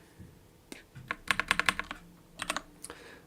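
Typing on a computer keyboard at a desk, a quick close burst of clicky keystrokes with short pauses between clusters, fairly quiet overall.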